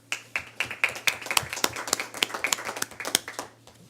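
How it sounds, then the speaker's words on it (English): Scattered clapping from a small audience at a town board meeting, distinct individual hand claps in an uneven rhythm, close and crisp, tapering off at the end. "let's give a round of applause for her volunteerism at that day"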